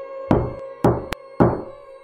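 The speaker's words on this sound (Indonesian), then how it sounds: "Ketukan itu kembali terdengar. Kali ini lebih keras." Knocking on a door in a horror story, three heavy hollow thuds spaced about half a second apart, each with a short ringing decay, close and fairly loud with a faint extra tap between.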